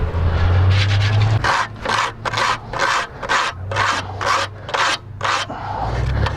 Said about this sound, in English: So we'll pull this off, scrape it, and do the same thing we did with the top grill. Just scrape off the chunks.